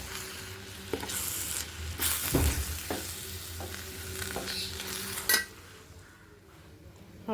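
Onion, capsicum, chili, garlic and ginger frying in a pan while being stirred, a continuous sizzle with scraping and clinks of a utensil against the pan, louder at first and then fading as the stirring stops.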